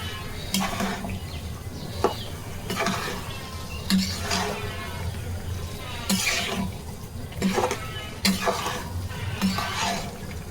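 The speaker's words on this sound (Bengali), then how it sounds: "নেড়ে ছেড়ে এটাকে মিশিয়ে নিচ্ছি" Spoon or spatula scrapes and clatters against a pan while a winter vegetable stir-fry is mixed, in repeated bursts about every two seconds over a steady low kitchen hum.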